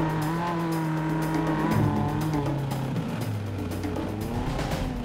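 All-terrain vehicle with 20-inch all-terrain tires and suspended seats driving over rough ground, its engine droning loudly and steadily with shifting pitch throughout.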